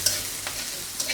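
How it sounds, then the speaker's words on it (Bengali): Oil sizzles steadily in a pan as chicken cooks, with a soft hiss and a couple of brief stirring scrapes over about a second. "আমার জন্য মুরগির মাংস রান্না হচ্ছে এখানে একটু তেল দিয়ে দিচ্ছি"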